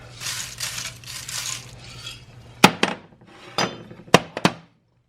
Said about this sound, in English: Pour the peas in there.